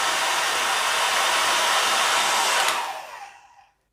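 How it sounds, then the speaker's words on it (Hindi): Hair dryer blowing a steady, loud rush of air upward beneath a ball, running close and continuous before switching off and winding down to silence. "मैंने ड्रायर को बॉल के ठीक नीचे रखा हुआ है।"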